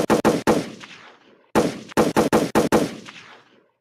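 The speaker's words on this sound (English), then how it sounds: "Gunshots." Loud, close gunshots in two rapid bursts, each a string of sharp cracks with ringing tails, separated by a brief pause.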